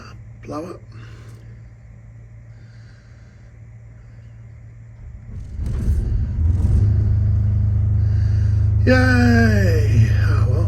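A Lombardini LMG 9000 marine generator aboard a sailboat cranks and fires up partway through, settling into a steady, loud, low-pitched drone, while a voice talks and higher tonal sweeps rise near the end.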